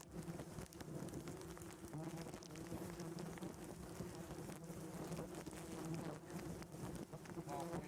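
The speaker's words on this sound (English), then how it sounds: "Southern yellow jackets." Southern yellow jackets swarm around a huge nest several feet tall attached under a house in Louisiana, a dense, constant droning buzz heard up close.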